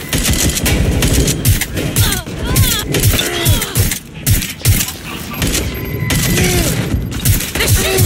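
Rapid bursts of gunfire in Watch Dogs: Legion, repeated volleys of shots loud and close, with voices shouting throughout.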